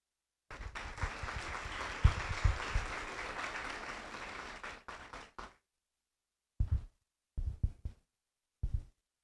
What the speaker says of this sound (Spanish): Así que le damos el fuerte aplauso a Francia.